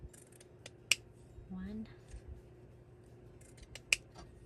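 Scissors cutting green paper hearts for craft journals, two sharp snips spaced a few seconds apart, close and clear over a quiet room with faint background murmur and a brief voice.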